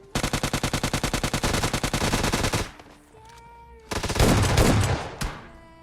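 Rapid automatic gunfire from the PUBG Lite battle royale game in a factory area: a loud burst of evenly spaced shots for over two seconds, a short pause with faint ringing tones, then a second dense, roaring burst.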